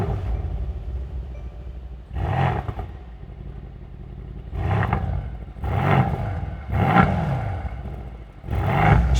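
A Mercedes-AMG C63 S Cabriolet with a 503-horsepower engine revs in a series of sharp, loud blips, one isolated and then four in quicker succession, each dropping back to a low, rumbling idle between bursts.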